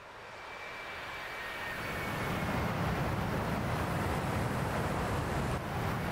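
F-22A jet engines spooling to full power on the runway before takeoff in the DCS flight game: a steady, rising roar that builds over the first seconds and then holds loud and constant, with a faint high whine early on.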